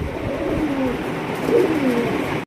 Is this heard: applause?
no